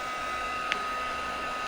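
Hair dryer blowing steadily on a beginner watercolor flower painting, a constant close airflow hum throughout with one brief higher burst partway through.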